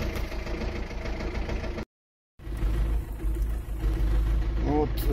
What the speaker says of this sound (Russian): Вот двигатель практически прогретый.